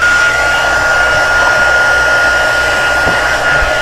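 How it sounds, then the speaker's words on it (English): A heat gun blowing continuously close by, a loud steady hairdryer-like roar with a thin whine on top, with no pauses and a few faint knocks underneath. "the heat gun's going to be kind of loud for a minute or two"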